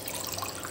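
Water gushes steadily into a cooking pot holding mutton paya (trotters), a brief close splashing pour with no voices.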